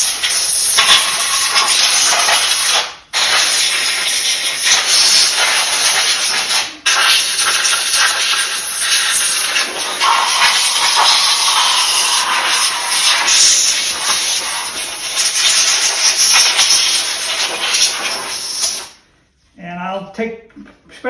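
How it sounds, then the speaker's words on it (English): Compressed air blasts kerosene from a Featherweight sewing machine body and gears, a loud, steady high-pitched hiss that runs almost continuously, briefly cut twice, then stops near the end as a voice speaks. "the air coming out at high velocity will blast off any little bits of remaining kerosene"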